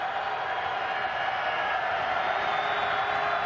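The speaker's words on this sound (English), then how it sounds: "Not a big crowd because of the weather, but boy are they loud." Loud crowd noise fills a college football stadium during a Utah State at Colorado State game, a steady roar that holds under the action without letting up.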